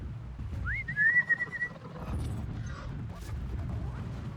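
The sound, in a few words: whistling in video game Horizon Zero Dawn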